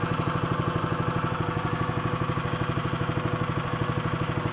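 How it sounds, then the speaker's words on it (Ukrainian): An induction motor rigged as a generator idles at about 1500 rpm, a steady loud mechanical hum with a fast even pulsing rhythm that runs unbroken from start to finish, close by and with nobody speaking. "Оце на холостом у нього півтори тисячі обертів."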